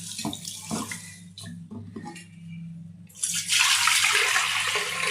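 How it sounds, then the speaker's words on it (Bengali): Tap water runs into a sink while rice and lentils are washed for khichuri, starting as scattered splashes and swelling into a loud, steady gush in the final seconds. "ধুয়ে নেব সুন্দর করে। তো এই যে চালটা ধোয়া হয়ে গেছে"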